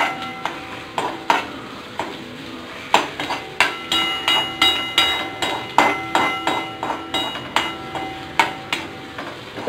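Crushed ginger, garlic and mushrooms frying in a pan for soup, with a spatula knocking and scraping the pan in a steady, repeated rhythm over a soft, constant sizzle.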